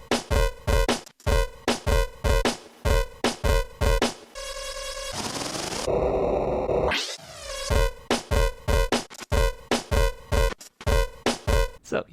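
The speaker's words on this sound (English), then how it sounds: "So you can get some pretty distorted and experimental sounding drums out of this thing." A modified Sonicware Liven drum machine pounds out a loud, distorted experimental beat of rapid crunchy hits, broken midway by a sustained buzzing glitchy drone and a sweeping pitch glide before the pounding pattern resumes.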